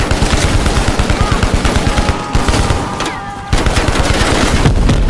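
Rapid automatic gunfire from the video game Call of Duty Black Ops Cold War, loud and sustained bursts with a brief lull midway, then heavy shooting resumes under faint game tones.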